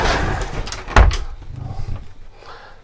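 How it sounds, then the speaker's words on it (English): A sliding door inside a 2014 Burstner Elegance i821G motorhome slides across with a rumbling scrape and a solid thud as it stops, followed by softer rolling noise trailing off. "you've got a door here which you can pull across to separate back of the motorhome"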